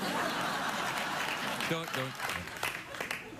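Studio audience applause and chuckles on a late-night talk show, a steady wash of clapping under a brief spoken line that fades toward the end.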